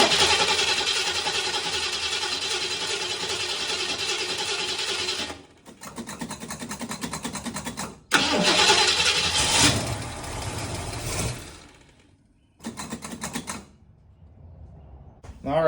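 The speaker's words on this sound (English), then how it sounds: "you see it cranked there for a while. I had to give it, of course you have to give it gas start" Car engine cranking at length then catching and revving, jump-started with a Trekure TK50 jump starter; loud sustained cranking drone broken by pauses, followed by a throttle burst and idle, with voices talking over parts.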